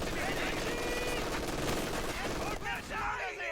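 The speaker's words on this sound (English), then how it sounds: "getting suppressed by the MG42 down there" MG42 machine gun fire in a competitive World War II strategy game match rattles in dense continuous bursts amid other battle noise, with a commentator talking over it throughout.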